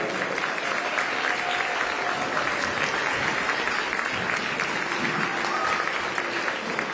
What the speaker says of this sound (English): let's give a round of applause to the Premier of Manitoba